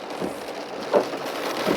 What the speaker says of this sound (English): Where the hell did this rain come from?